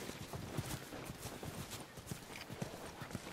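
Horse hooves clip-clop steadily in The Last of Us video game, an even walking rhythm of soft thuds at moderate distance over a low background hum.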